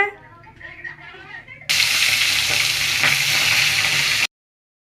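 Fish dropped into hot oil in a kadai, bursting into a loud, steady crackling sizzle that holds for a few seconds and then cuts off, preceded by a quieter stretch with a voice speaking.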